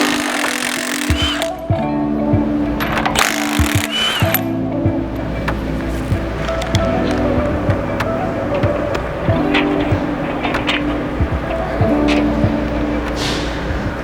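A 15/16 socket loosens the end bolts on a snow plow's cutting edge, producing a steady, loud mechanical whir with a constant hum underneath that runs the whole time, with no talking.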